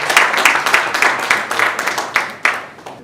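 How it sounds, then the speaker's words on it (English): Loud applause from a conference audience at a network operators' meeting, a dense run of close claps with sharp individual hand strikes punctuating the steady roar. "another round of applause for him"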